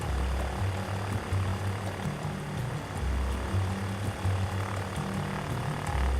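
A propeller plane's engine in the flight video game Ultrawings drones steadily and loudly as the throttle is eased back, a continuous buzzing hum with no voices.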